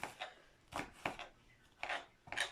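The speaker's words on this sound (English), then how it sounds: "I am cutting up my seasonings." Knife chopping garlic and seasonings on a board: five separate bursts of close cutting strokes with short gaps between them, no talk.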